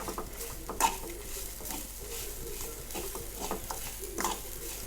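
Coconut, turmeric and tamarind are fried in a pan for a beetroot and mung dal dish, with steady stirring and scraping of a utensil against the pan over a low sizzle.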